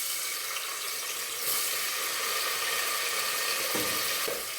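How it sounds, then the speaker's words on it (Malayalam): Ginger and garlic dropped into a pan of chicken curry give a loud, steady frying sizzle. The hiss stays constant throughout, with a couple of brief clatters near the end. "ഇനി നമുക്കിതിലേക്ക് ഇഞ്ചിയും വെളുത്തുള്ളിയും ഇട്ട് കൊടുക്കാം"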